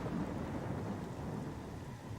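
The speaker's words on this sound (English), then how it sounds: "Rain falls." Steady rain and distant rolling thunder on the planet Talon IV in Metroid Prime, a dense even hiss of rainfall over a low continuous rumble, with no voices.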